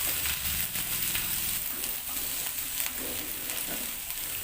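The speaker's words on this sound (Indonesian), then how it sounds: "Lalu diaduk-aduk hingga telurnya ini menjadi telur orek." Eggs mixed with chive flowers sizzle in a pan while being stirred into scrambled eggs, giving a steady close frying hiss with soft scraping stirs and no voices.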